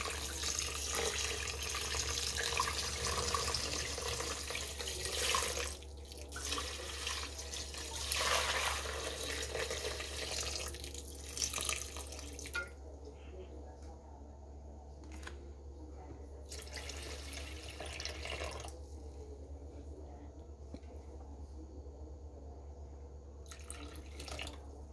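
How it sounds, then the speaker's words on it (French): Water poured into a Compact Cook Platinum multicooker, 1250 g in all, as a continuous splashing stream that thins to intermittent trickles in the second half, over a steady low hum. "on va donc verser 1250 g d'eau"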